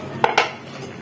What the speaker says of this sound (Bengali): দেখুন, এবার আমি ঢাকাটা খুলছি।